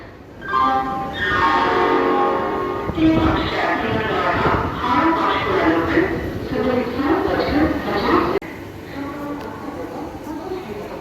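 A Kolkata–Digha local train pulling into the platform: a loud horn blast at the start, then rumbling wheels and carriage clatter close by, with people talking over it and the noise dropping after a sharp change near the end.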